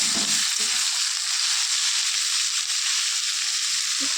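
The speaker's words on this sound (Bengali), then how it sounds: "আলুগুলো দিয়ে দিয়েছি, এবার এটাকে ভালোভাবে খুন্তি দিয়ে নেড়ে দেবো।" Potato pieces frying in hot mustard oil for a Bengali shrimp, bitter gourd and potato dish, stirred with a spatula, give a steady, close, dense sizzle throughout with no talking.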